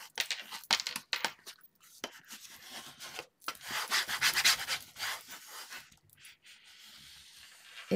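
Hands press and rub a glued cardboard cover around a circle, making dry scratchy rubbing strokes in short uneven bursts, close and fairly quiet, with brief pauses between passes.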